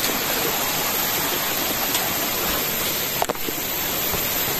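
A river flowing through a forest, rushing water forming a steady, dense broadband roar that fills the whole clip, with one brief knock partway through and no voices.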